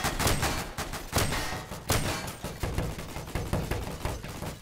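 Heavy gunfire in a video game police raid, with dense, rapid bursts of loud shots and overlapping volleys that crack and thump continuously, close and intense, and no voices.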